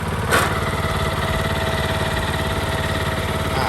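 Two-wheel walk-behind tractor tiller engine running steadily in gear, a continuous loud mechanical drone with a brief louder burst near the start and no talk.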